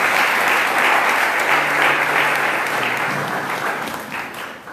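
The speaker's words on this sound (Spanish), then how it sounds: "Denle un aplauso a la palabra de Dios." A church congregation at a Catholic talk on prayer gives loud, dense applause that sustains evenly, then tapers off slightly near the end.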